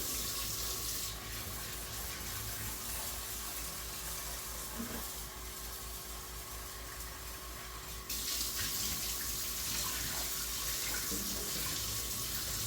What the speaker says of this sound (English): I like to get my hands in there and fluff it around, make sure every single little bit of that rice is kind of getting washed through